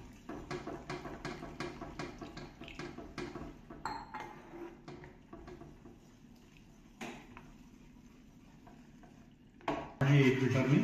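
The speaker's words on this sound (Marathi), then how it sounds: "शेवटचं आपण दूध टाकतो." Milk being poured into pasta sauce in a pan and stirred, with repeated scraping and tapping of a utensil against the pan, faint and close, ending in a louder burst of bubbling or sizzling.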